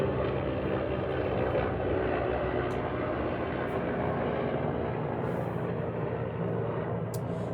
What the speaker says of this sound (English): Now a helicopter.